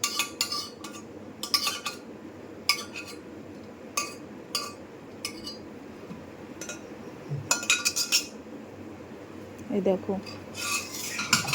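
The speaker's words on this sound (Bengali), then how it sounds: "এবার একটু নাড়াচাড়া করে দিলাম, মিক্স হয়ে গেল আর কি মশলাটা আর ডাল।" A metal spoon stirs rajma and urad dal with spices in a pot, giving repeated bright clinks and scrapes against the metal in uneven bursts, with a soft word or two spoken.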